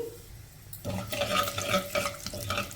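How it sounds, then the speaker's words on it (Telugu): Mustard seeds, urad dal and cumin fry in hot oil over a medium flame, a soft crackling sizzle that starts abruptly and continues steadily with light stirring and popping, fairly quiet and close. "మీడియం ఫ్లేమ్లో పోపు దినుసుల్ని మంచి కలర్ వచ్చే వరకు ఫ్రై చేసేసుకోవాలి"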